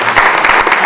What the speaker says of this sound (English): So I got to give a round of applause to my family